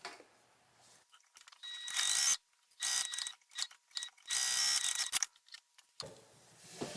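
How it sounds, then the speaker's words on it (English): A sewing machine top stitches down both sides of a folded fabric hanging loop for a stocking, running in several loud mechanical bursts separated by short pauses, with no talking. "Now I'm going to top stitch down both sides."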